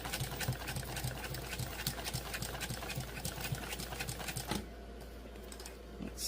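A Singer 291u1 industrial sewing machine fitted with a roller presser foot stitches in a rapid, even clatter for several seconds, then stops, leaving a low steady motor hum, close and without talk.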